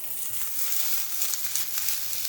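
Onions frying in a pan for a vegan burger, a steady, close hiss and crackle that holds evenly throughout with no talking.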